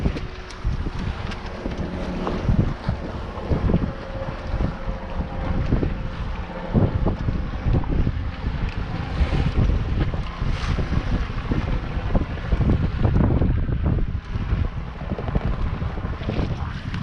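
Steady wind roar and rushing, slapping water surround a small sailing dinghy tacking out of a harbour entrance through choppy, backwashing seas off the headlands, loud and continuous with no voices.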